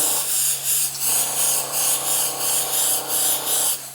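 A close, loud airbrush fitted with a 0.3 mm needle hisses steadily in short pulsing bursts while painting a model body, the spray swelling and easing in a regular rhythm.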